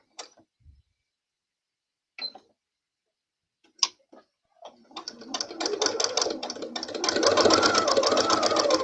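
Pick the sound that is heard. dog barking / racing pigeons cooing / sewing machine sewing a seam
sewing machine sewing a seam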